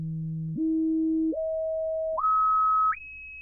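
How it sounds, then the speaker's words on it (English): Pure sine wave test tones at audible frequencies step upward in pitch, five steady notes each held under a second, clean and isolated against near silence. "let's listen to a few of those frequencies that humans are definitely able to hear"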